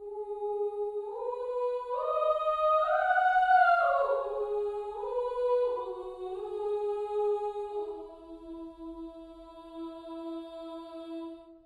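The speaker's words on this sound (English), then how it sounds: "Metropolis Ark 2 has their children's choir," Children's choir from the Metropolis Ark 2 orchestral sample library sings a soft legato phrase. Voices rise to a peak, then slide down into held, gentle notes, moderately quiet and with no talking.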